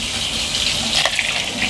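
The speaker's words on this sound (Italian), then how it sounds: "E riempiamo di acqua fino a far superare di un paio di dita il contenuto della nostra pentola." Water is poured into a cooking pot of fava beans and chestnuts, a short continuous gushing splash, close and fairly loud, with no talk.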